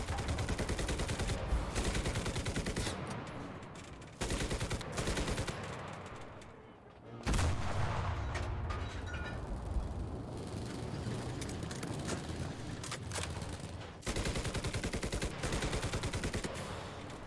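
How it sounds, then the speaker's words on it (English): Sustained bursts of tank-mounted machine gun fire in the World War II shooter Enlisted, Battle of Berlin, loud and close, with rapid rattling volleys broken by brief pauses and heavier blasts. "Also, machine guns on tanks need to be a lot deadlier."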